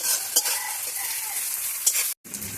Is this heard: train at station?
no